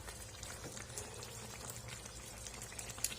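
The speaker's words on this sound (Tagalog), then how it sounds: "kumulo na ang yan" Pork menudo simmering and bubbling in a pot, a steady close wash of boiling liquid with faint crackle and pops, no voices.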